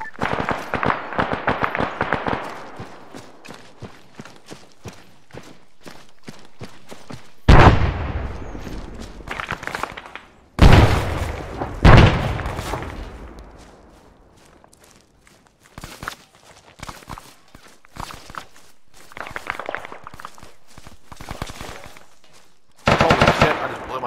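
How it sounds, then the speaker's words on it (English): Machine gun fire in the tactical shooter Hot Brass: loud bursts of rapid shots with booming impacts, separated by quieter stretches of ticking footsteps and movement, then another sharp burst near the end. "Machine gunner, 200 meters,"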